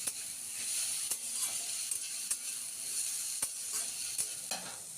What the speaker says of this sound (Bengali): আবার খুব ভালো করে সবটা মিশিয়ে একটু নাড়াচাড়া করে নিচ্ছি